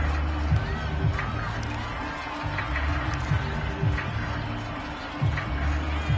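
Stadium crowd at an American football game, a steady broad roar of many voices with low rumbling swells and scattered louder bursts, sustained and distant throughout.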